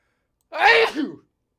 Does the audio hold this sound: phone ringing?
no